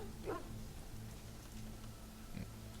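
A dog barks twice in the Dragon Age: Origins game world, short bursts a couple of seconds apart over a steady low ambient hum, with no speech.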